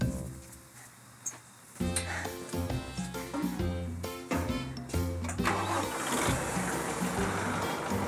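An orchard tractor hitched to a wagon starts up, first a quiet idle, then a cranking catch that settles into a loud, steady mid-pitched engine chug with rattling beats, and brief voices underneath.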